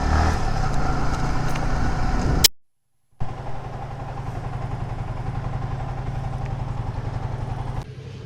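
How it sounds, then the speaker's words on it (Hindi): Motorcycle crossing over, its engine running as a steady mid-pitched drone that drops out briefly, then returns and holds continuously before easing off, with no talk. "तो चलो बाइक पार करता हूँ और आपको फिर मिलते हैं।"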